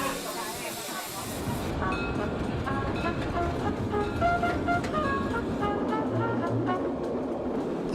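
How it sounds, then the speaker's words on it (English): A 1930s-built large tank engine train on the ten-mile Bad Doberan line rolling along, a continuous rumble of wheels on rail with rhythmic clatter and hiss, heard from on board. "The trains on this 10-mile route are worked by large tank engines built in the 1930s."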